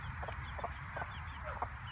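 Chickens with baby chicks cluck softly in short repeated calls over a steady low background hum, several birds close by with no talking, in the rain.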